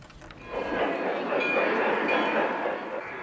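A model train runs on its track at a large traveling model train show, a steady rolling rumble that rises after a quiet start, with faint voices in the hall.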